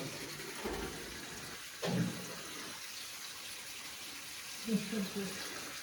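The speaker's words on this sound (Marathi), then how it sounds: "तो पाणी भरतोय आता" Water running from a pipe into a household storage tank during the morning supply, a steady low rush with a couple of louder splashy surges, recorded fairly faint.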